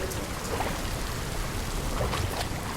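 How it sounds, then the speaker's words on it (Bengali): Heavy rain pours in a dense, steady roar with no pauses, close and loud throughout with nothing else standing out. "ঝমঝমে বৃষ্টি"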